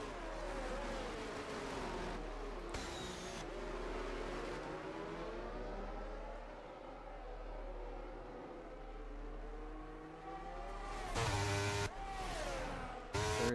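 Racing cars in a video game race at an Italy track, engines whining and rising through gears as cars pass, with a steady low drone and a louder burst of engine noise near the end.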